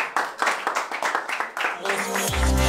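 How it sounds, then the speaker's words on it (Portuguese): An audience at a rap battle in Brazil claps in a quick, uneven burst of sharp claps, soon overtaken by a loud music beat with a voice coming in. "Palmas pra ele aí, família."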